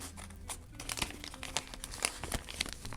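Close, quiet crinkling and tearing of a thin paper packet being cut open with scissors, a series of short crisp rustles and snips with no talking.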